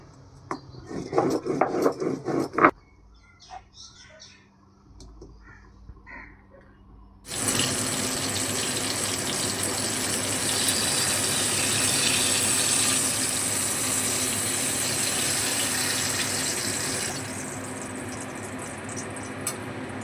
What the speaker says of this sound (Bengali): সর্ষে, পোস্ত এবং লঙ্কাটা একটু জল দিয়ে শিলে বেটে নিচ্ছি।